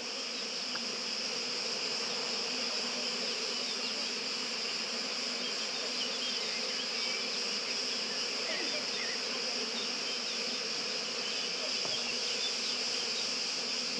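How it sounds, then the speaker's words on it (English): Cretan honeybees buzzing in a small backyard with lemon trees in Crete, a steady layered drone of many insects that holds evenly throughout, close and unbroken, with no voices. "Cretan honeybees."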